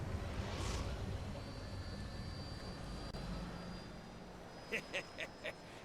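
An airplane engine starts up in Final Fantasy VII Rebirth, a steady drone throughout with a thin whine, joined near the end by a few short, evenly spaced mechanical pulses.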